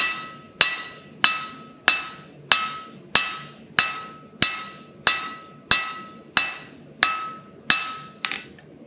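A blacksmith hand-hammers a hot steel bar to draw it out, about fourteen sharp ringing blows in a steady rhythm, each decaying before the next, close and loud with no talk.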